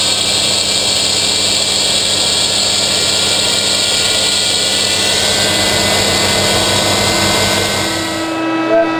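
A Douglas DC-8-62 jet engine spooling up during start, a loud continuous whine and roar with steady rising tones, close and dominant throughout, with no talk over it.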